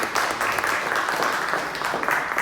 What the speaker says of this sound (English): Can you please give a round of applause?